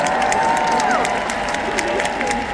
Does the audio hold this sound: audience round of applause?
yes